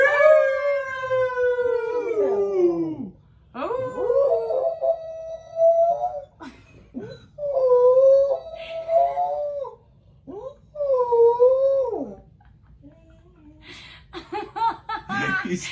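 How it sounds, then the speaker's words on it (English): A dog howling mournfully indoors: several long, wavering howls that slide downward in pitch, separated by short pauses, close and loud, with bursts of human laughter near the end. "That was the saddest howl."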